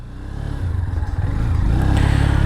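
A Honda CB200X motorcycle engine idles with a low thump and then revs up, growing louder and rougher as the bike swings through a tight U-turn close by.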